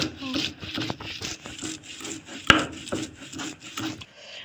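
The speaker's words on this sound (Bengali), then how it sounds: "আদা, রসুন, কাঁচামরিচ এগুলো বেটে নিই দেখো।" Ginger, garlic and green chillies are ground into a paste in a village kitchen, a steady close rubbing and scraping with one sharp knock midway, while voices murmur in the background.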